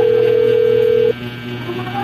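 A telephone ringing tone sounds as a steady, loud single pitch for about a second before it cuts off abruptly, leaving a faint line hum behind.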